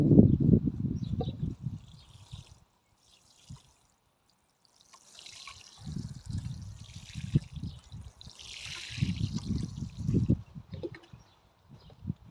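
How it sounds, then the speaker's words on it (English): Water trickles and splashes onto freshly sown seeds in the soil, coming in several separate bursts with quiet gaps between them and faint rustling at times. "so we'll give them a water"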